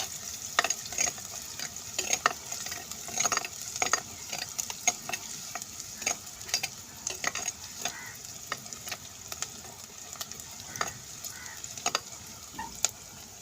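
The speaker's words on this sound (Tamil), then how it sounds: "வெங்காயத்தை போட்டு வதக்கிற வேண்டியதான்." Onions sautéing in a pan, a soft continuous sizzle with frequent light scraping and stirring ticks, close and quiet, no voices.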